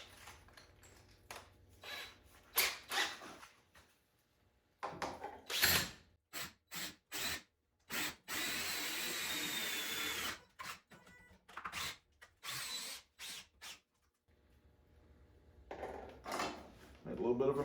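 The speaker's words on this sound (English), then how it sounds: "I got a little drill there" A small power drill boring a hole into a piece of fruit, in short bursts of whirring broken by pauses, with one longer steady run in the middle.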